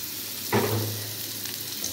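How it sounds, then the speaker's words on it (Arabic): Crushed garlic dropped into a small amount of hot oil for an okra dish gives a brief, close sizzle that flares up and then fades to a soft frying hiss. "حمصت دي بقى بالزيت كده"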